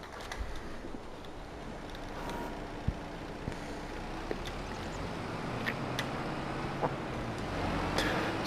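Kubota SSV75 wheeled skid steer driving in Farming Simulator 22, a steady simulated engine drone with broad rumble holding at even loudness, with a few faint ticks and clicks over it.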